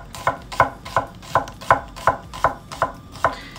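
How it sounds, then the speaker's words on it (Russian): A knife chops through onion on a board in about ten evenly spaced, crisp strokes, close up and with no voices. "Также берем репчатый лук. Его нарезаем на обычные полукольца."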